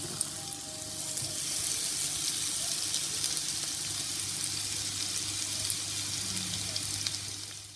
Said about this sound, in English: we're going to fry this off in batches